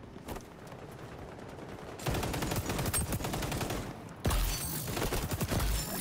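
ACR rifle firing in the video game XDefiant, rapid automatic bursts of sharp, crackling shots that grow louder and denser partway through, with an ongoing stream of fire to the end.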